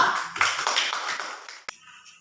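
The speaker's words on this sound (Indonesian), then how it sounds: "beri tepuk tangan untuk kelompok 2" Applause for a presenting student group in a classroom, a burst of brisk mixed claps that quickly thins out and ends with one sharp final clap.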